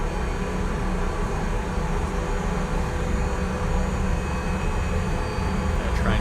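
An Su-30 jet's engines roar steadily during takeoff in the War Thunder air simulator, a loud, continuous, broadband rumble and whine that fills the whole moment without letting up.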